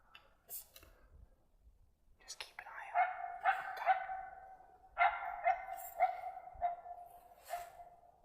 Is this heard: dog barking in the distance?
yes